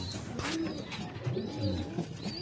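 A racing pigeon hen coos softly in a loft, several short throaty coos repeating in a loose rhythm, close and quiet with no voices over them.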